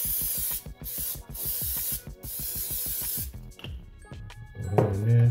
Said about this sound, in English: I mean olive oil spray.